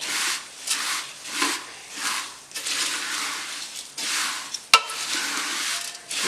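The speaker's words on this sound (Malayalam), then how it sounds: "കരിഞ്ഞു പോകാതെ ഒന്ന് നന്നായിട്ട് ഇളക്കി ചെറുതായിട്ടൊന്ന് റോസ്റ്റ് ചെയ്തെടുത്താൽ മതി" Flattened rice (aval) being stirred and dry-roasted in a pan: rhythmic, scraping hisses sweep back and forth in regular strokes, with a sharp clink of the spoon against the pan near the end.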